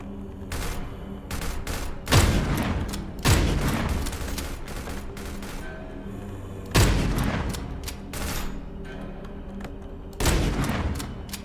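Video game gunfire with a shotgun among the weapons, heavy booming blasts arriving in separate bursts with quieter crackling shots between them, loud and close with no talking.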